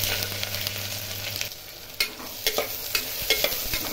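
Cumin seeds and onion frying in a pan with whole spices for veg biryani, a steady crackling sizzle with stirring scrapes and a few sharper clatters toward the end, no talking.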